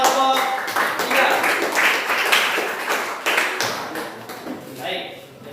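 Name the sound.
applause for group 3 after their presentation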